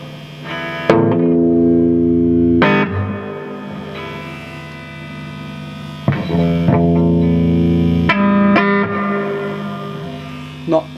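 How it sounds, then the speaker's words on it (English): A Vox AC30TBR guitar amplifier with a replaced vintage reverb transformer, its spring reverb tail washing after each plucked guitar chord, several strummed chords ringing out loudly with a lingering, slightly metallic echo. "not the most fantastic reverb in the world."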